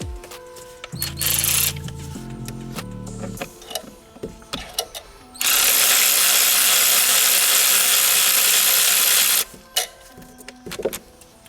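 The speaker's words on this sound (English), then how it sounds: "then I'll just take like a 90-degree air ratchet, either battery or air, and makes quick work of spinning these things out" A 90-degree air ratchet spinning out bolts during removal of a VW Beetle IRS transmission, with short bursts early on, then one long steady whirring run up close and a few clanks of tools.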